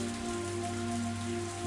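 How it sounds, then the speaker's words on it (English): Torrential downpour sound effect in the visual novel Higurashi, a steady broadband hiss of heavy rain with a low constant hum beneath, unchanging and loud throughout. "As Ooshi mused that it might start to rain, a torrential downpour started,"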